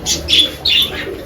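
Racing pigeons give a few short coos and chirps close by in three quick bursts over a low murmur of the flock, with a brief flutter of wings.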